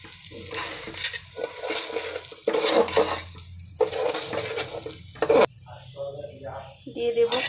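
A spoon stirs rice into fried onions and garam masala in a pot while beef is being cooked, giving repeated scraping and clanking bursts, with a voice talking between them.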